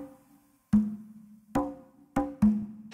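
Conga drum struck by hand in a secret-sound guessing game for kids, four resonant toned slaps in an uneven pattern, close and clear with no voices over them.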